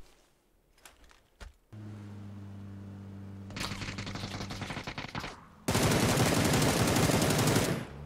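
Bursts of automatic gunfire in the PUBG battle royale game on a night Erangel map, opening with scattered single shots, then sustained rapid fire building to a loud, dense fusillade near the end.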